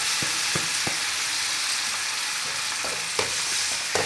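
Chopped onions frying in hot oil in a pan for a turnip and chicken curry, a dense continuous sizzle with occasional scrapes and clinks of a spoon stirring, close and steady, no talking.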